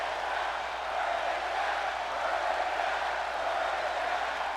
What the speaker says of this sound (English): And the crowd's chanting,